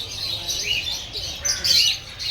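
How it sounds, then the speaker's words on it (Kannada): Cockatiels chirp in a zoo aviary in Ahmedabad, a steady wash of overlapping high, bright calls at moderate distance, with a louder burst of chatter near the end. "ಕಾಕ್ಟೈಲ್ ಅಂತ ಹೆಸರು."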